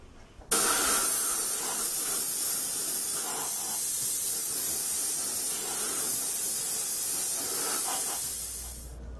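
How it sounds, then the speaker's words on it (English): Airbrush spraying a tint coat of buff-colored paint over a Master Box Mk 1 Female British tank scale model, a steady close hiss that starts abruptly and runs almost unbroken for about nine seconds before tapering off. "I'm going to use my airbrush and tint the entire model with a coat of buff color."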